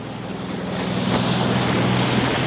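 A sailboat motor sailing across open water off Mexico, its steady low engine drone running beneath broadband wash of waves and wind noise, continuous and fairly close throughout.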